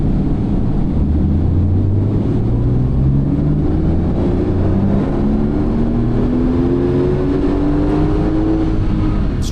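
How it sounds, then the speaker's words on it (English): A Porsche 911 Turbo S runs on a dyno, its engine droning loud and steady with the pitch climbing smoothly through the gears in repeated rising sweeps. "We're going to find out now by running it on the dyno."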